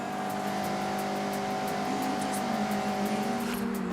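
Mazda MX-5 engine in a racing video game, a steady sustained drone with shifting revs across the whole stretch, loud and close with no talking over it.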